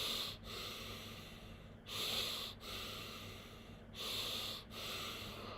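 Slow, rhythmic breathing in and out through the nose during a breathing exercise, each airy inhale and exhale lasting about a second or two, close and soft with no talking.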